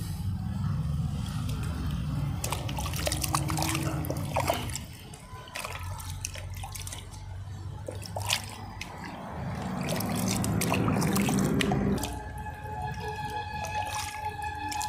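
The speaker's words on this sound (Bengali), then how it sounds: "এরপর অ্যাডিনিয়ামের গোড়াকে খুব ভালো করে জলে ধুয়ে নিন।" Water drips and trickles while the base of an adenium plant is washed by hand, soft splashes and dribbles coming in uneven bursts close by, faint and without talk.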